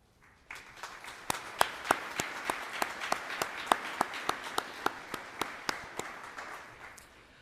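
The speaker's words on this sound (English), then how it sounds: "let's give these students a well-deserved round of applause" An audience at a graduation ceremony applauds steadily for several seconds, a dense wash of clapping with a few sharp individual claps standing out, heard from a moderate distance.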